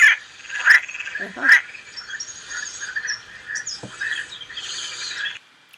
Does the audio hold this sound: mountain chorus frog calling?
yes